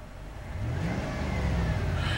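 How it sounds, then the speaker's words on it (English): A 2009 Dodge Ram Laramie Crew Cab engine revving up from idle, a close, rising motor roar that climbs in pitch and holds loud over about two seconds. "I'm going to rev the engine."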